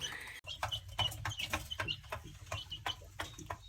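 Hens clucking on a homestead during morning chores, a string of short, fairly close clucks and chirps in a steady irregular rhythm over a low background hum.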